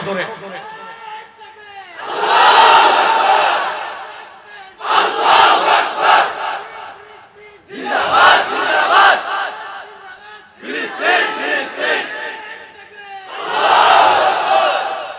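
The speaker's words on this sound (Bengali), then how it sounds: "মারো এবার তাকবীর" A large crowd at a protest loudly chants takbir, Allahu Akbar, in five powerful surging waves separated by brief pauses, the massed voices near and roaring.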